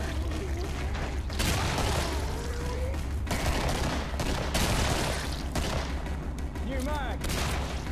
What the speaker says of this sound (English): That hunting shotgun has some range, man.